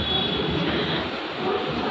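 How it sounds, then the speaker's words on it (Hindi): Broadband rumble of a train standing at Pune railway station, heard from an overhead walkway as a steady, moderately loud wash of station and rail noise with no speech. "नीचे ट्रेन लगी हुई है"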